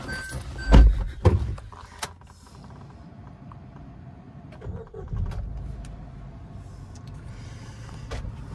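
A 2023 Suzuki Fronx car gives a few sharp clicks and thumps near the start, then its engine settles into a soft, steady low hum that runs to the end.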